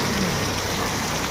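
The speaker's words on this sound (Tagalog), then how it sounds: "Grabe lakas ang ulan oh." Heavy rain pours steadily in a dense, continuous roar with no letup, loud and close, with no voices over it.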